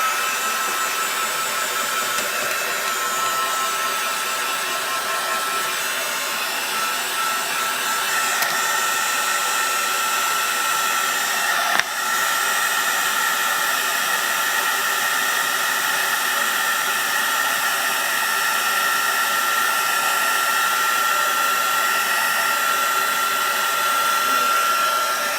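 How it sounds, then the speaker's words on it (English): A heat tool blows hot air to dry heat embossing on paper craft tags, making a loud, steady hair-dryer-like roar that runs unbroken throughout with no talking. "you can take your heat tool and dry it a little bit"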